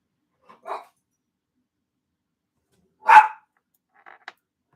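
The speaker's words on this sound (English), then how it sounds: "Dog." A dog barks indoors, a few separate barks spread across a quiet room, one louder bark in the middle with fainter ones before and after.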